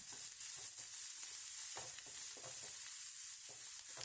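Chopped onion sautéing in oil in a pan while white sauce pasta is being made. It gives a steady, moderate sizzle with faint stirring scrapes and no talking.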